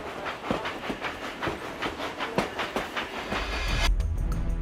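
A freight train pulled by three 4,400 horsepower engines climbs a mountain grade, wheels clacking in a steady rhythmic beat over the rails before a louder rumbling rush swells in near the end.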